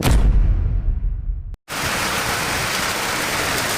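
Steady, dense hiss of rain falling, loud and continuous, briefly cut by a short moment of silence midway before resuming.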